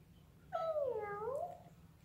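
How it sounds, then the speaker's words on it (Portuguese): A single clear cat meow, rising then falling and lasting about a second, fairly close against a faint background hum. "Eu tenho um gatinho colorido, que som ele faz?"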